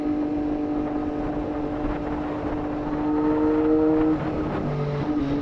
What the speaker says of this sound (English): I'm vibing out to this engine